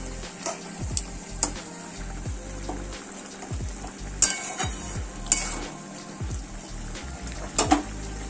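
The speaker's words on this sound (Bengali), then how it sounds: "দেখতে পাচ্ছ জলটা ফুটছে" Vegetable curry simmering and bubbling in a pan of boiling water, with a steady sizzle broken by frequent clinks and scrapes of a spoon against the pan, close and fairly quiet, with no talking.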